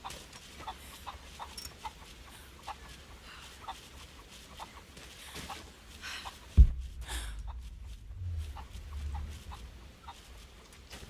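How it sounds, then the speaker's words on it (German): Chicken in Rise of the Tomb Raider, repeated short clucks in an uneven rhythm at moderate distance, with a sudden low thump partway through. "Lass halt das Huhn in Ruhe."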